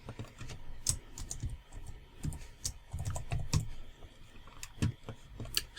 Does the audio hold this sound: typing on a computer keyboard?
yes